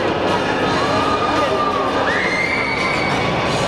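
VIP audience members at a Bigfest 2016 fan convention auction shout together in a loud, dense crowd roar that stays steady for several seconds.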